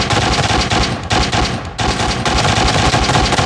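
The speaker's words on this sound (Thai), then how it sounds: "เสียงนี้บอกเลยว่า โคตรจะดังครับเสียงยิงกัน" Loud, rapid automatic gunfire in the video game Arena Breakout rattles almost nonstop, with one brief pause, dense and close like a firefight.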